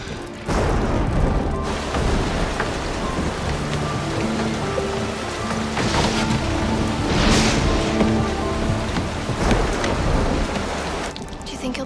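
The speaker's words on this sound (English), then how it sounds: "It's raining outside." Heavy rain falls outside in a thunderstorm, a constant roaring hiss broken by deep rumbling thunder and booming surges, loud and near throughout.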